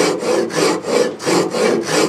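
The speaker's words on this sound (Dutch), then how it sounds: "Ik zaag de lijn weg" A hand saw cuts along a marked line in wood while renovating an old pergola, steady back-and-forth strokes, about six rasping passes in two seconds, close and loud with no talking.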